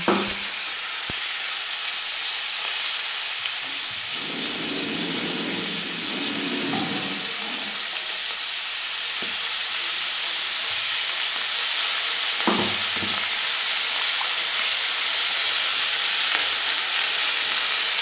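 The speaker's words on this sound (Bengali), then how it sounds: "দিয়ে এবার আমি এটা নাড়তে থাকবো" Spices with cumin powder, salt and ginger paste frying in a pan, a loud continuous sizzling hiss with occasional stirring scrapes and a few sharp knocks.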